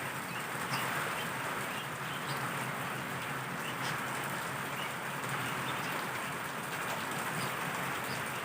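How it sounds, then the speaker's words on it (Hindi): Heavy night rain pours steadily over Karachi in a dense, continuous hiss with faint drips, unbroken and even throughout, no voices. "मुसलधार बारिश बहुत तेज़ हो रही है।"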